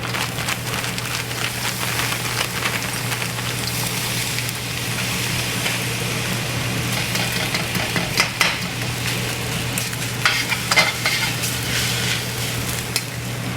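Rice and vegetables stir-fry in an inexpensive $12 wok, giving a steady, dense sizzle with scraping and stirring clatter that runs without a break for the whole stretch, close and fairly loud, with no talking.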